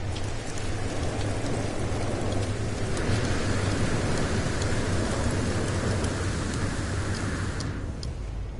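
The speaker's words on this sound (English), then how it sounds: "But then I come out here and it's raining." Rain falls outdoors in the video game No Man's Sky as a dense, steady hiss that runs without a break from start to finish, with a low rumble underneath.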